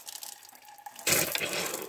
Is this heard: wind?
no